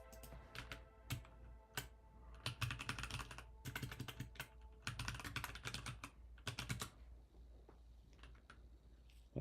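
Someone types on a computer keyboard while coding in PyCharm, with clustered bursts of quick close key clicks separated by short pauses and isolated taps, over a faint steady hum.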